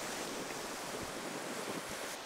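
Ocean surf on a rocky coast roars as a loud, continuous, broad wash, with wind buffeting the microphone and no voices.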